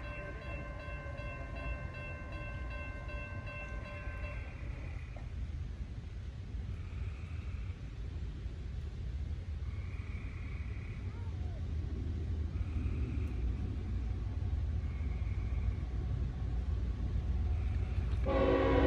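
A northbound M652 freight train, carrying a wrecked car on a flatcar, sounds its horn with a sustained blast, then rolls past with a steady rumble and faint squeals.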